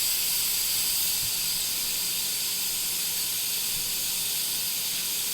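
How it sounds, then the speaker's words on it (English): Steam hisses steadily from a pressure cooker of baked beans sitting over a hot fire, a continuous bright, even rush of noise lasting throughout, close and moderately loud with no talking. "I can hear the steam, I can see some of it"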